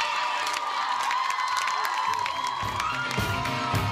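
A crowd at a live comedy showmatch cheers and applauds steadily, a dense continuous roar of clapping and shouts, with a host's voice faintly present over the noise.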